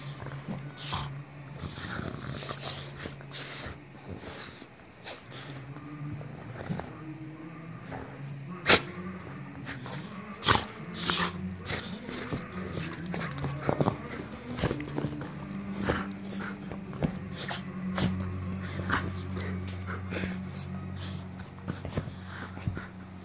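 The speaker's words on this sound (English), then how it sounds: "Such silly dogs." Two dogs wrestle and play indoors, giving a steady mix of snorts, scuffling, growly grumbles and sharp clicks and thumps over about twenty seconds, close and moderately loud.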